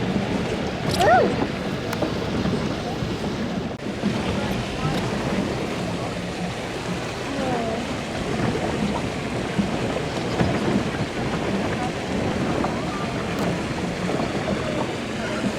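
Paddle boat churning across a mill pond, with continuous water splashing and lapping close by, plus faint voices and occasional knocks in the background.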